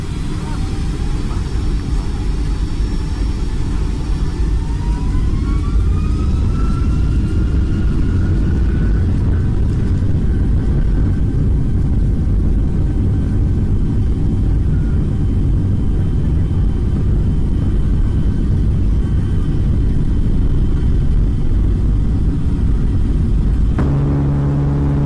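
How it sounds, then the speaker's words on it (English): Boeing 757 jet engines spooling up for a takeoff roll at Frankfurt, heard from a cabin seat near the right engine as a loud, continuous roar and rumble with a rising whine, cutting off abruptly near the end. "A passenger seated near the right engine decided to record as the plane kicked into high gear."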